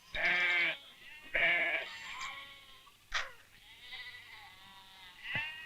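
Several bleats from a goat on a farm in rural Tamil Nadu, loud, close and wavering, in separate calls with short pauses between them and no talk over them.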